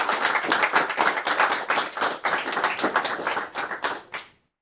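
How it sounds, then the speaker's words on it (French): Audience applause at a French tech talk event, a dense patter of many hands clapping steadily for about four seconds before stopping abruptly. "je pense qu'on peut applaudir"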